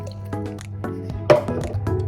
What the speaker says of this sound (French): je vais également mettre à peu près 100 ml d'eau